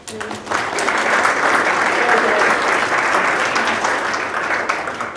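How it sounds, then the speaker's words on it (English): An audience applauds presenters at a professional development session, a dense, steady wash of clapping that swells in after a moment and holds strongly for several seconds. "let's give them a round of applause"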